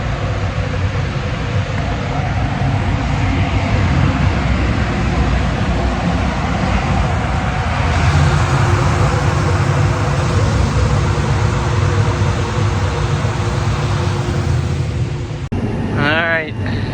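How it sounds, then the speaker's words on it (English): A grain dryer on a farm during corn harvest roars with a loud, steady, broadband rush that runs continuously, then shifts briefly near the end. "the dryer's drying. We'll go listen to it roar for a second"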